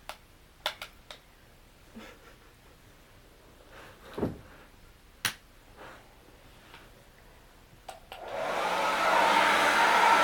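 A hair dryer heating, first preceded by scattered clicks and light handling knocks, then switching on near the end into a loud, steady, close airy roar with no one speaking.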